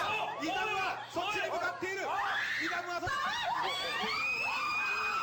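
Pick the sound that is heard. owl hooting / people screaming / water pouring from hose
people screaming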